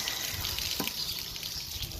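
Water drains from a pressure relief valve on a Heartland Mallard M312 RV, a steady hissing, splashing spray with a steady rush throughout, fairly close and alone.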